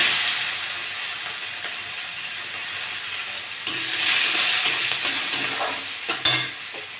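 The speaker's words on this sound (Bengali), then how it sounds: "পেঁয়াজটা একটু ভাজা ভাজা হয়ে গেছে" Chopped onion sizzling in hot oil with bay leaves, panch phoron and dried red chillies, a steady close frying hiss with occasional stirring scrapes and a louder burst near the end, no voices.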